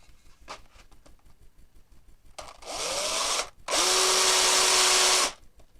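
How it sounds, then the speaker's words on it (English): A power drill drives a thread-cutting tap into a hole in wood in two loud, whirring bursts, the second longer and steadier, preceded by light handling clicks. "Take the tap and put it in your drill like so."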